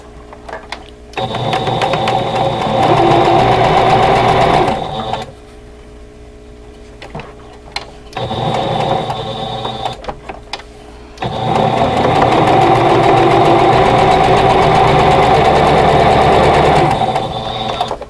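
Sewing machine stitching together the center row of a tulip vintage quilt block, three loud bursts of rapid whirring with short pauses between them, near and alone without voices.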